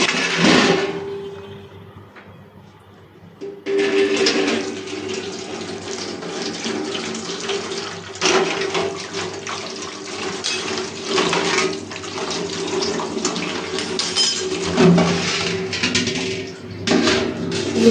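Tap water running into a household basin during kitchen cleaning, a steady loud splashing stream that starts, briefly drops off, then resumes and continues close by with no talking.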